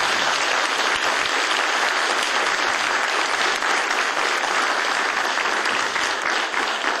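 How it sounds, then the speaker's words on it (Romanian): An audience at a Romanian folk music contest claps in a dense, sustained burst of applause, loud and even throughout with no talk over it. "vreau pentru acest lucru să-i aplaudați pe toți concurenții."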